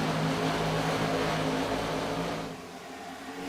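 Race car engines in the iRacing sim, including a red and black Camaro, drone loudly and steadily before easing off slightly toward the end, with no talk.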